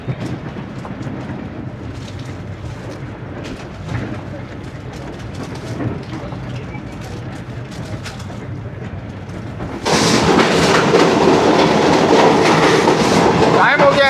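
Shalimar Express train running on the tracks past a station in Pakistan: a steady rumble and rhythmic clatter carry inside the carriage, then jump sharply louder and brighter near the end as the wheels roar over the rails.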